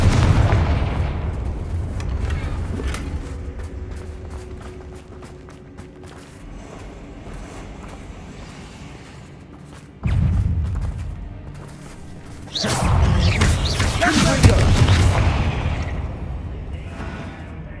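Deep booming spell blasts from a Confringo fire spell in Hogwarts Legacy erupt in a few heavy bursts separated by quieter stretches, with rumbling low impacts and crackling debris.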